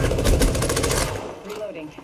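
The Prowler gun in Apex Legends fires a rapid, loud burst of close shots for about a second. The shots then stop, and a voice is heard afterward.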